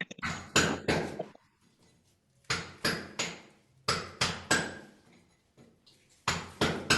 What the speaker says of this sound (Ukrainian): Молоток, згадались.